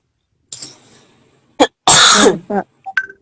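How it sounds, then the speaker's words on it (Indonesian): A few harsh, close coughs in quick succession during a university lecture, one loud burst followed by shorter hacking bits and a throat clear. "Tolong yang batuk. Dikontrol."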